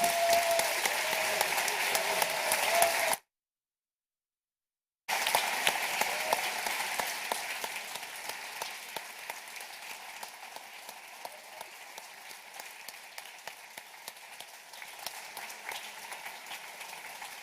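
Audience applause fills the hall at the Cambridge Union, dense sustained clapping that cuts out briefly and then resumes, gradually thinning toward the end.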